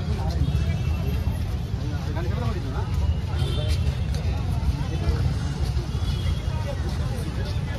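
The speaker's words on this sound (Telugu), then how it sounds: "Full traffic." Heavy road traffic near the Khairatabad Ganesh pandal in Hyderabad, with a dense, continuous rumble of engines and passing vehicles among a crowd's babble and nearby talking.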